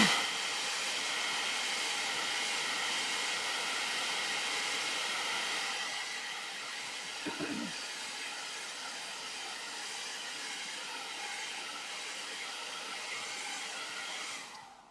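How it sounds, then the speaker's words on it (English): A blow dryer runs with a steady loud whoosh while drying paint on a personalized rusty saw blade, the airflow dipping and shifting midway before cutting off at the end; no one speaks. "I'm going to use the blow dryer"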